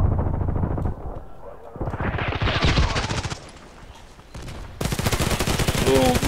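Gunfire in the Contract Wars shooter game: loud bursts of rapid shots, one stretch dense and rattling, then a short lull before another sustained volley, with game voices and effects mixed in.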